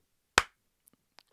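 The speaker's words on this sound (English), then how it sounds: "Clap for sync." A single sharp hand clap for audio sync, close and crisp, followed by faint small ticks in an otherwise quiet room.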